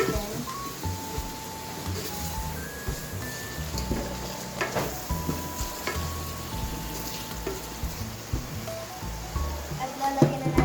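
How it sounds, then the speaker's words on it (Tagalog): Mung beans with dried shrimp being sautéed and stirred in a pan, a steady sizzle with scraping stir strokes and light clinks of utensils against the pan. "Haluin natin."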